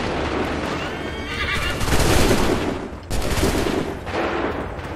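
Musket volley gunfire in the video game Assassin's Creed III, with two loud bursts of massed shots roughly a second apart, mixed with horse whinnies and hoofbeats in a busy battle scene.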